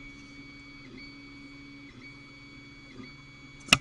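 A 3D printer hums steadily while printing the first layer of a hair dryer holder, with whining stepper-motor tones and soft periodic movements, ending in a brief sharp click.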